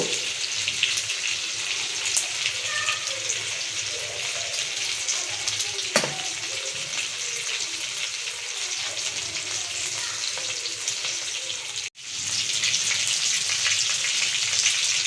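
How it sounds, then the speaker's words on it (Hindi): Dhaka fish pieces frying in a pan over a medium-low flame produce a loud, steady hiss and sizzle that runs throughout, with a brief dip in the sound near the end. "ये फिश हो रही है फ्राई"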